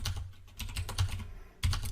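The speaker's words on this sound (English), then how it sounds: "he's typing" Close, rapid clicking of keys on a computer keyboard as a command is entered, irregular bursts of taps with a short pause near the end before another quick flurry.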